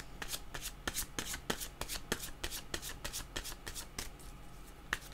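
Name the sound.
shuffling oracle cards for a reading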